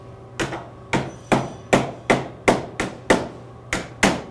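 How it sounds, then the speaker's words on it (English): A soft mallet taps a vinyl sill nose into place on a window frame, ten evenly spaced, sharp thuds with short decays, close and clear with no talk. "grab the sill nose and your soft mallet and tap it into place also"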